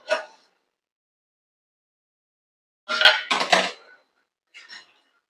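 A metal lid clanks onto a kadhai of mixed vegetables on the stove, a short clink first, then a louder cluster of rattling metal contacts after a silence, and a faint final tap.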